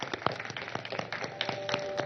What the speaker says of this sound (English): A round of applause for the 2 gentlemen.